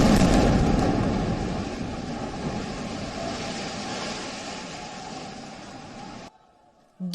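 A single heavy blast rings out, its deep rumbling roar slowly fading over several seconds before cutting off abruptly.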